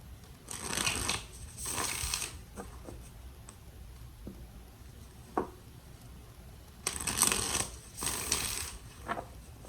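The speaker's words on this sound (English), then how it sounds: "More shuffles for Aries." Playing cards are shuffled in two quick riffling bursts, then a few soft taps and handling sounds before two more shuffles, close and clear.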